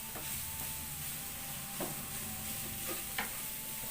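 Soft stirring of pumpkin with vegetables in a cooking pot, a steady low sizzling hiss with a few faint scrapes and taps, fairly quiet and with no talk.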